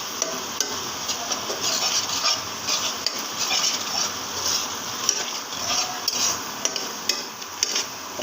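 An egg frying with onions in a pan for a cabbage-and-egg dish, a steady close sizzle with frequent scrapes and clinks of a utensil stirring against the pan.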